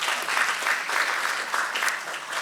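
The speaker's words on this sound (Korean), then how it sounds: "이 정도 되면 박수 나와야 되는데" An audience at a science and technology policy panel debate claps in a steady, moderately loud burst of applause that carries on evenly through the moment.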